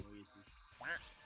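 A person imitates a duck with a short nasal quack, heard close and quiet after a bit of low murmured speech.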